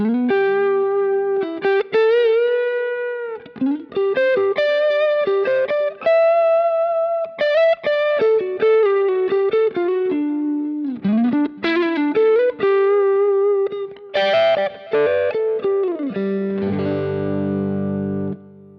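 An electric guitar through a Kemper Profiler with delay plays a melodic lead line with echoing repeats trailing each note, ending on a sustained ringing chord.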